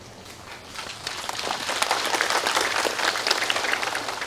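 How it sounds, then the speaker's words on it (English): Audience clapping at a spiritual teaching talk: a dense, crackling applause that builds after the first second and holds steady at moderate volume to the end, with no speech over it. "Why are you clapping?"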